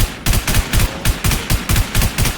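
Rapid bursts of gunfire from a shooter video game, Infestation, fire in a steady repeating rhythm of about eight loud, close shots with no talk over them.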